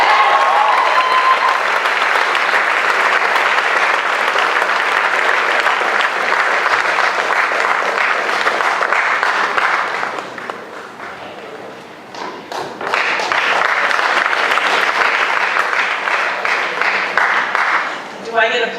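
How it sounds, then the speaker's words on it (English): Awards-night audience applause fills the hall, sustained clapping from a large crowd that dips briefly in the middle before swelling again, with occasional thumps. "Do I get applause because I'm still standing and I was from the class of"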